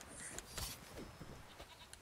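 Goats bleat faintly in The Witcher 3: Wild Hunt, a few short wavering cries set against quiet game ambience with no speech.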